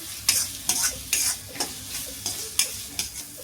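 Ginger and garlic sautéed in a pan for village-style mutton head curry, with a spoon scraping and stirring in steady rhythmic strokes, about eight of them, over a soft sizzle.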